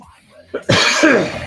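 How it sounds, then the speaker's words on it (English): A person coughs and clears their throat in a couple of harsh, close bursts, loud and raspy. "I'm just coughing in your ear, making disgusting noises."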